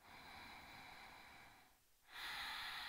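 Deep breathing during a morning vinyasa yoga session, a long close exhale through the nose that fades into a short pause, followed by a strong inhale.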